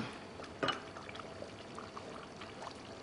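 Coconut milk goes into a country chicken curry with a brief soft splash, then a faint, quiet liquid trickle.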